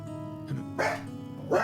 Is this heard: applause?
no